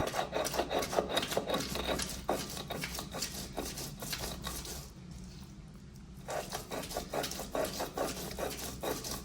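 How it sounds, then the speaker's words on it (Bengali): Cooked beans are ground by hand on a flat grinding stone (pata), a close, rhythmic rasping scrape repeating in quick strokes, pausing briefly midway before resuming. "ঠান্ডা হয়ে গেলে এখন আমরা এগুলো পাটায় বেটে নেব।"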